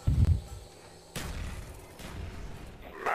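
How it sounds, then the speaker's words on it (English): Grenade explosions in Black Ops Zombies on the Moon map: a heavy booming blast at the start, then further rumbling detonations with a sharp crackling burst at the end, no talk. "Time to use grenades."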